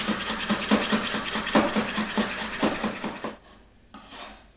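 A large garlic clove chopped finely with a knife on a board while making a Vietnamese green mango and prawn salad; quick, repeated rhythmic taps and scraping strokes, close and fairly loud, no talking.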